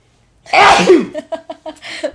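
A loud, close sneeze bursts out, followed by a quick run of short voiced sounds, like laughter or sputtering.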